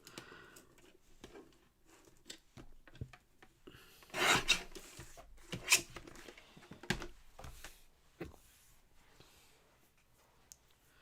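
Trimming the top edge off a handmade paper craft card produces soft scraping and rasping strokes up close, with a few louder bursts of cutting or rubbing in the middle and quiet handling noises around them.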